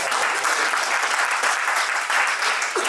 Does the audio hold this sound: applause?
yes